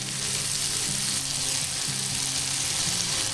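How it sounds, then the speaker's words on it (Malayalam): Chopped tomatoes for chicken biryani sauté in a hot pan with a loud, continuous, close sizzle and no voices. "ഇനി ഈ തക്കാളി നമുക്ക് നന്നായിട്ട് അലിഞ്ഞു കിട്ടണം. അതുപോലെ നമുക്കിതൊന്ന് വഴറ്റിയെടുക്കാം."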